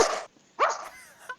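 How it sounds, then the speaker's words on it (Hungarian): Dogs bark in quick sharp bursts, two loud barks followed by softer yips, close and clear with no talk over them. "Kutyák."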